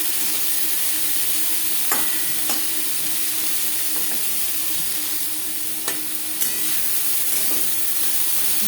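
Spiny gourd (kakrol) with salt and turmeric sizzles steadily in a pan over a gas flame, with a few sharp clinks of a spatula as it is stirred.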